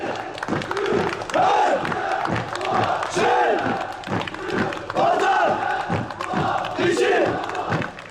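Commando unit chanting slogans in unison during a holiday parade through a city centre in Diyarbakır, with crowd applause and cheering; loud, rhythmic repeated shouts close by over a continuous crowd bed.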